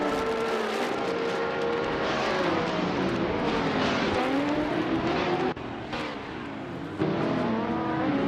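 Race cars in a racing video game roar past in overlapping engine notes, pitches rising and falling as they accelerate and shift, loud and continuous with a brief dip partway through.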